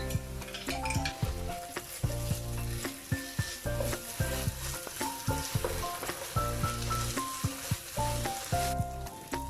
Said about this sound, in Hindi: अब हम इसमें ऐड करेंगे 1 टीस्पून लहसुन अदरक का पेस्ट।